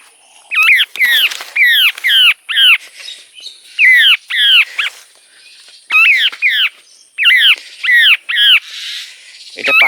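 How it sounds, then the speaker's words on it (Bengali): Bird locally called kaskesi squawks loudly and close, giving repeated harsh calls in quick bursts of two to four with short pauses between, alone and without talk. "আমরা বলি ক্যাসকেসি পাখি, দেখছেন? পাখিগুলো প্রতিদিন আমার বাড়িতে আসে ভাত টাত খাওয়ার জন্য।"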